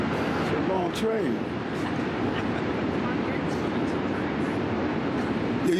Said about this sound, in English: Now this is the train go by.